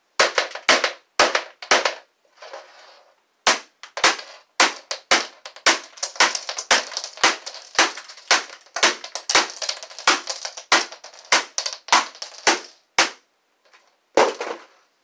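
A computer keyboard being smashed: a long run of sharp, loud cracking impacts with scattered plastic clatter, coming in irregular bursts with brief pauses between hits.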